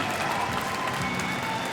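An audience applauding in a hall at a seniors' video game tournament final at Paris Games Week, a steady dense wash of clapping at moderate volume with no talk.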